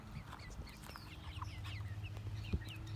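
Chickens cluck and chatter steadily in an outdoor chicken run around a propped-up feeder, with several birds calling close by over a low background rumble.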